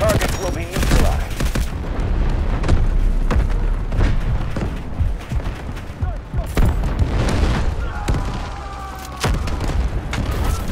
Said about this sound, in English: Cruise missiles inbound.